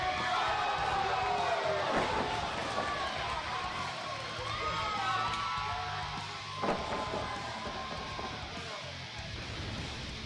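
A wrestling crowd at an IWL event cheers and shouts for the whole stretch in a loud, dense roar, with voices rising and falling and a brief surge near the middle.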